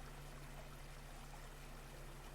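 Quiet, continuous trickle of running water in the game Fawn, an even, faint stream sound over a low background hum with no voices.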